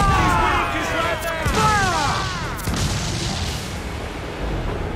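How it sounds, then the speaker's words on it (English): Ship cannons firing in the naval combat of Assassin's Creed Black Flag, several heavy booms in quick succession amid rumbling battle noise and chaotic game effects. "Get the ship turning this way, and fire!"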